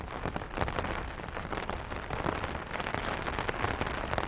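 Light drizzling rain patters steadily on a surface, a dense, even hiss of fine drops that stays close and constant throughout with no voices.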